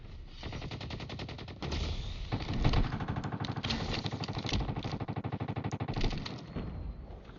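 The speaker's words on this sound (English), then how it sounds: "I hear an MG." Machine gun fire in a Call of Duty Mobile battle royale match, a dense, continuous stream of rapid automatic shots that runs nearly the whole time with a brief dip early on, loud and steady with no voice over it.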